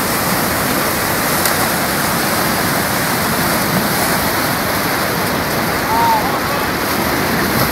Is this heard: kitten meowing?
no